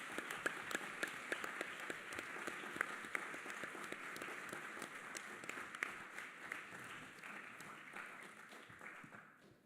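Audience applause for the committee chairs at a Model United Nations opening ceremony, sustained dense clapping from a large hall crowd lasting several seconds before tapering off, heard faintly and at a distance.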